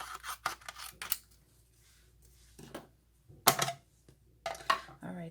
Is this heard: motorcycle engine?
no